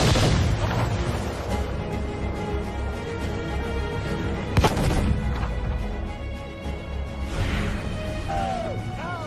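Ship cannons firing during a naval battle in Assassin's Creed Freedom Cry, a dense roar of booms and crashes with one sharp loud blast midway over constant background rumble.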